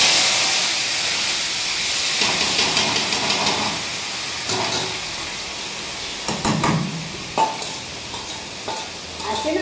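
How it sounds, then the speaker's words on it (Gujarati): Chopped onions hiss and sizzle loudly as they drop into hot oil tempered with mustard seeds, cumin and asafoetida for pav bhaji, with a steady steamy frying hiss and bursts of clattering stirring throughout. "આ ડુંગળીનો વઘાર કરો."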